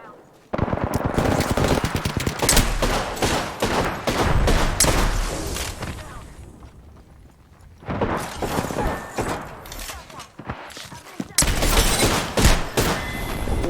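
Gunshots in the video game Apex Legends, rapid automatic bursts and heavy thuds in loud close volleys, easing off midway before another intense burst of firing.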